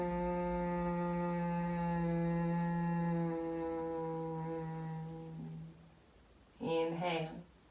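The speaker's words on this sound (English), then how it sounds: "we're going for some little bee breathing, just a short one" A single long humming exhale in yoga bee breathing, a steady voiced drone with strong even harmonics lasting about six seconds and tapering off, followed by a brief breathy inhale, close and clear.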